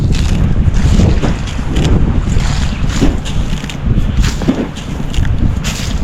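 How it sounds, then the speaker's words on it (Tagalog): Strong wind roars and buffets the microphone in loud, surging gusts, with a rushing outdoor background and no talking. "Tapos kayo na sobrang lakas ng hangin."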